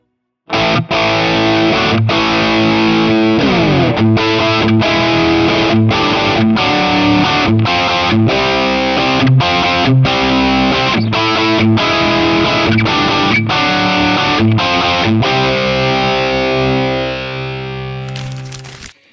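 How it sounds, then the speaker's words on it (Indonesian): Electric guitar played through a distortion effect pedal, one of several budget distortion units, with loud, continuous crunchy chords and rhythmic strummed stabs carrying on for most of the passage before fading out. "itu dia 5 rekomendasi efek gitar distorsi harga 500 ribuan versi Soundbiz ID"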